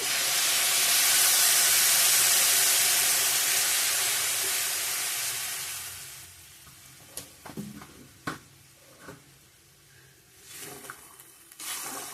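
Water poured into a hot pan of fried ground spices sets off a loud, rushing hiss and sizzle that fades after about six seconds into quieter bubbling, punctuated by sharp knocks and clinks of a utensil.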